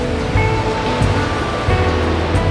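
Ocean surf churns and booms below a high, exposed sea cliff on the Ballycotton coast, a steady loud roar of breaking waves with low rumbling surges and no voices.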